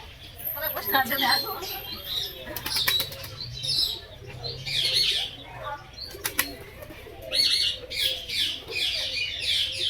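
Birds, including many kinds of pigeons, squawk and chatter in bursts at a zoo while wings flap nearby, with people talking over the commotion.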